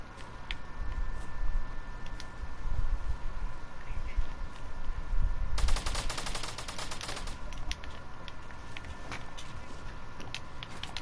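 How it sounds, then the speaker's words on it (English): Video game gunfire crackles in a dense burst of rapid automatic shots about midway, close and sharp over a steady background of movement and ambient noise, then fades back to the ambience. "Oh, I'm getting shot at."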